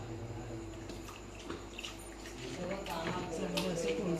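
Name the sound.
water poured into a cooking pot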